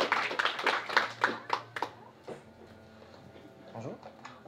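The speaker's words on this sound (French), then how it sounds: "Alors, Très bien, on peut t'applaudir." Short burst of clapping at a magic show, a handful of sharp claps over the first two seconds that quickly die away, with a voice talking over the tail.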